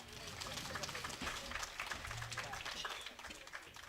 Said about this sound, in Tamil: ஒரு கைதட்டு கொடுக்கலாம்.